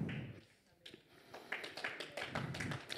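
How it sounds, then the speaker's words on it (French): A church congregation at Église Fondation Granby claps. The first sparse, quiet claps build into a steadier rhythmic patter, and a voice can be heard now and then. "Vous êtes timide sur l'applaudissement"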